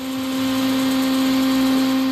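A blender whirs steadily as it mixes milk, sugar, cardamom and a pinch of salt for a Malabar plantain cake, a loud continuous motor hum with a strong steady drone throughout and no talk.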